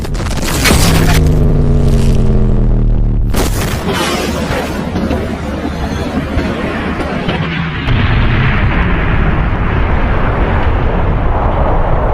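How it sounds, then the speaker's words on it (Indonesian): An atomic bomb explosion of the kind dropped on Hiroshima and Nagasaki in 1945: a loud, sustained roaring blast with sharp opening bursts, rolling on as a continuous rumble for about twelve seconds. "bom atom pertama dijatuhkan di Hiroshima dan Nagasaki"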